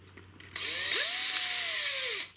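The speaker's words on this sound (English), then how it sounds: "if I use my drill and connect the end of the wire into it, like so." A cordless power drill spins the end of a wire, a steady high motor whine that starts abruptly, revs slightly, holds for about two seconds, then cuts off, close and loud with no talking.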